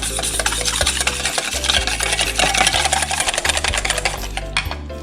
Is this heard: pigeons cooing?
no